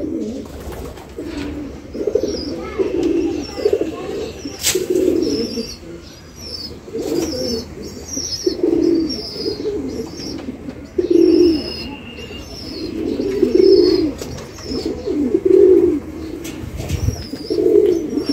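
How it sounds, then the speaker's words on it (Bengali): Pigeons in a coop give a steady run of soft, rolling coos close by, repeating every second or two, with a few high chirps and a brief flutter of wings. "দেখতে পেলেন আমাদের কবুতর ঘরে"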